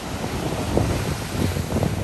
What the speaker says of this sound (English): The sound of the waves, so relaxing and rejuvenating.